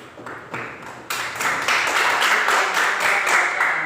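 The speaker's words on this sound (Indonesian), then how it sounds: "Ya, tepuk tangan untuk" Children clap in an elementary school classroom; a few scattered claps at first, then a fuller burst of group clapping with a rough, repeated rhythm, fairly close and moderately loud.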